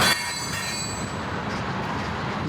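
Steady rumble of a train rolling past close by, beside a road, with a high metallic wheel squeal running over the continuous low clatter.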